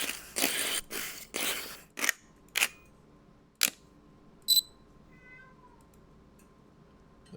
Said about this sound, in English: Digital camera.